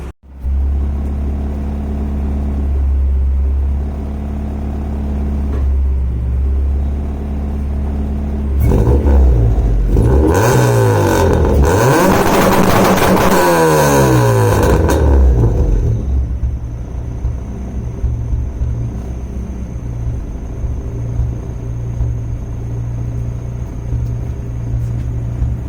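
A car engine with header-wrapped exhaust idles with a deep, loud rumble, then revs hard in several rising and falling sweeps, and afterwards settles back to a steady, consistent idle.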